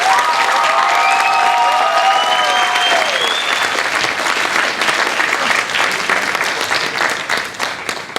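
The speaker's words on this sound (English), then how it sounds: "Let's give a round of applause to Miss Lee." Audience applause at a middle school band concert, dense and steady throughout and gradually thinning toward the end, with a few tonal squeals or whistles rising above it early on.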